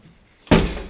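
Car door on a 1966 Ford Galaxie 500 convertible worked by its outside handle: a single solid thunk after a short quiet pause, close and fairly loud, with a brief ringing decay.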